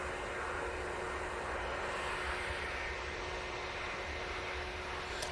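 A British Airways Airbus A320ceo departs Manchester Airport for London Heathrow, its jet engines a steady, fairly faint broadband roar that holds evenly throughout with no voices.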